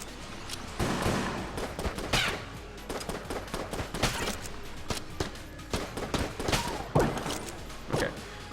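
The Jolter gun fires in Enter the Gungeon: dense, rapid bursts of video-game gunfire with thumping impacts, continuous and loud throughout.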